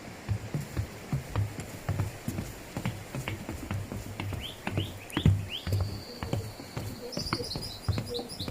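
Clear, high bird whistles and chirps ring out in a short series over a busy background of footsteps and rustling in Ihlara Valley, Cappadocia.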